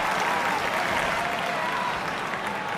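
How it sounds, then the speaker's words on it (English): Sustained applause from a large crowd of Japanese fans in the wrestling game WWE 2K25, dense and steady clapping throughout, with a faint voice underneath. "As the Japanese fans applaud in approval."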